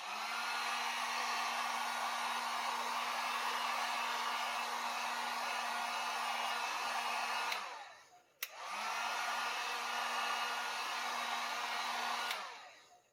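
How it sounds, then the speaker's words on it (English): Hot air blower heating leather to seal it while building a Mandalorian blaster holster, a steady loud whoosh running about eight seconds, a brief cutoff, then another four-second blast. "heat that up a little bit to seal it in"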